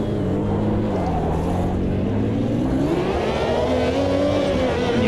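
A Ferrari 333SP race car in Automobilista 2 screams at full throttle in fifth gear along a fast section of track, its close, steady engine note climbing smoothly in pitch with no one talking.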